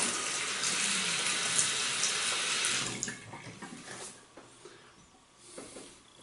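A tap runs water for wetting the face before a wet shave: a steady hiss of flowing water for about three seconds, then it is shut off and softer drips and handling noises follow, no talking.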